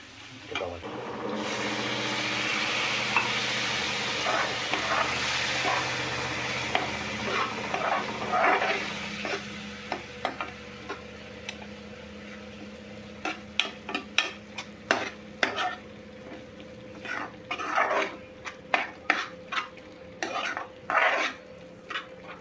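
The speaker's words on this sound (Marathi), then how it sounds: "मसाले जोपर्यंत व्यवस्थित शिजत नाही तोपर्यंत व्यवस्थित परतवा।" Spice masala for a prawn gravy stir-fried in a pan, a steady sizzle at first, then a spoon scraping and clinking against the pan in irregular strokes, close and fairly loud.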